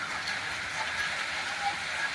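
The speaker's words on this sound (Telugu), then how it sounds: "సాయంత్రం 5 గంటల తర్వాత ఆకాశంలో కారు మబ్బులు కమ్ముకొని చినుకులతో మొదలైన వర్షం మోస్తారు పాటుగా కురుస్తున్న దృశ్యాలు ఇప్పుడు మనం చూస్తున్నాం" Rain falls in the evening over a rural district, heard as a soft, even wash of droplet noise that stays faint and uniform throughout with no distinct drips or voices.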